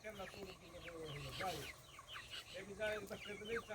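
Chickens cluck and squawk in quick, agitated bursts as a dog chases them around in the morning, close and lively, with a voice faintly heard underneath.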